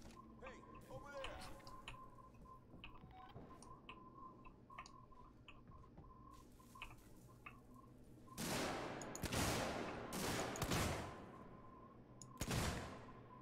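Gunfire from the video game Alien: Isolation, several loud broadband bursts of shots near the end after a stretch of quieter ticking and dripping game ambience, with a person talking.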